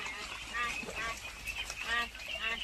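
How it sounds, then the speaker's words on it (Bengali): Young ducklings on a farm splash into water for the first time, giving repeated high peeping calls and excited quacks up close, while a voice talks and calls over them. "আনন্দে আত্মহারা হয়ে গেছে প্রথম পানি পেয়ে হাঁসের বাচ্চাগুলো"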